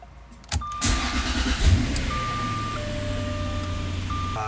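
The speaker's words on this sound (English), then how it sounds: "This is actually the first time I'm getting to hear the car turn over." A car's engine cranks after a push-button start, catches with a loud burst, then settles into a steady, close idle with a faint high electronic tone running over it.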